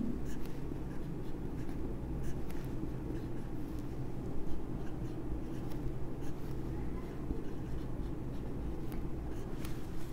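Chalk or marker writing on a classroom board during a chemistry lecture, a steady scratchy scraping that runs continuously for several seconds over a low room hum, with no talk.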